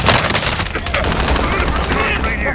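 Rapid automatic gunfire in Call of Duty: Modern Warfare, dense overlapping bursts that stay loud throughout, with faint voices mixed under the shooting.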